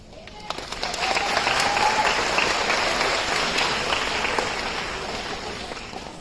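Audience at an Odissi ballet performance breaking into steady, dense applause with some cheering, building quickly and holding loud and full for several seconds.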